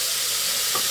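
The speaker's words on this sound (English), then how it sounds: "Stir that together." Chopped onion and celery sizzling in a pot while being stirred, a brief, steady frying hiss with a soft scrape of the spoon near the end.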